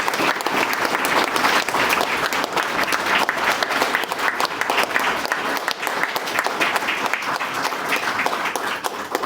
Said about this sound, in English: Let's put our hands together for our honorees.